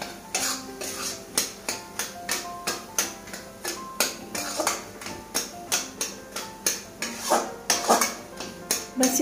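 A spoon scrapes and clinks against a pan as tomato is stirred into bottle gourd curry with mustard, the metallic taps steady and rhythmic, close up, with no talking.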